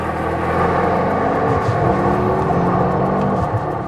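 Mercedes-AMG S63 E Performance on the move, a steady loud cabin rumble with engine drone and gear-shift changes in pitch, no talking.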